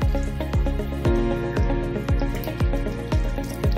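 Water running from a tap during handwashing, a steady splashing stream into a sink with repeated pulsing knocks, continuous and fairly loud with no talking.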